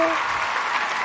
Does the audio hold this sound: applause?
yes